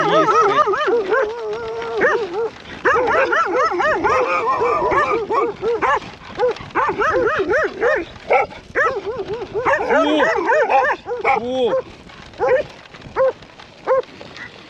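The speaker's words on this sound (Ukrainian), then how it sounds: "Це собаки, які пасуть стадо корів, які пасуть череду, але злющі." Several cattle-herding dogs bark and yip aggressively in rapid bursts, close by and loud, with a brief spoken word mixed in.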